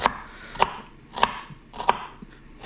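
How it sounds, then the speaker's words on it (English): A knife chops vegetables into even dice on a cutting board for tomato soup, four or five crisp, evenly spaced strikes close up with a soft hush between them. "I just like to make them about the same size dice, just so that they cook evenly"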